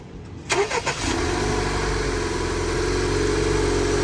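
A 2018-2022 Honda Accord with newly installed charge pipes cranks briefly, then catches and settles into a steady, loud idle up close.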